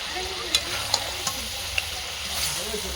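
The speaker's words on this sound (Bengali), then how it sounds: "তারপর আবার এরকম কষাতে থাকবো" Spices for a mutton curry stir-fry in a pan with a steady close sizzle, broken by several distinct clicks and scrapes of the spatula at irregular intervals.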